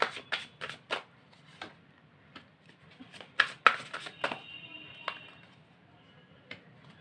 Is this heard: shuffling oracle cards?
yes